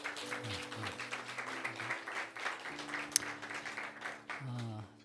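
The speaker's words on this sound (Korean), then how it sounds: "우리 박수로 환영하겠습니다." A church congregation claps to welcome guests during a Pentecost worship service: a sustained patter of hands with voices and tonal sounds mixed in, swelling and easing over several seconds.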